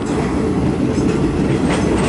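Passenger train on the Nam Tok–Thonburi line skirting a cliffside, a loud continuous rumble with rhythmic clickety-clack of wheels on rails, heard alone.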